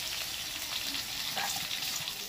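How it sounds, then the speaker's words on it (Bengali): Potatoes fry in hot oil in a kadai, giving a continuous close sizzle and crackle that holds steady throughout with no voices. "আলুটা ভাজতে দিয়ে দিলাম"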